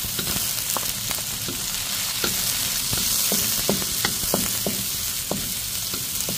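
Dried shrimp sizzle loudly in oil in a frying pan, a continuous close crackle broken by scattered sharp pops and stirring clicks, with no voices.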